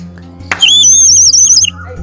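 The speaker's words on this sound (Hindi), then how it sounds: "ये एक विसल है जिसमें थोड़ा सा पानी भर के फिर आप फूंक मारो, बजाओ ऐसे तो चिड़िया की आवाज़ आएगा।" A small water-filled clay bird whistle from a craft market in Udaipur, blown to warble like a songbird in one bright, trilling burst of about a second over a low steady hum.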